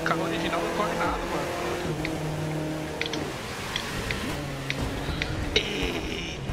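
A race car's engine revs hard in The Crew 2 racing game, with a steady droning whine that shifts pitch through gear changes, sitting fairly quiet beneath a man chatting.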